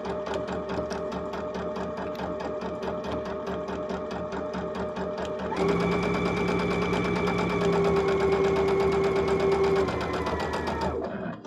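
A sewing machine runs a basic straight stitch on digital dual feed, its needle chattering in a fast steady rhythm close by, growing louder and busier partway through before slowing at the end.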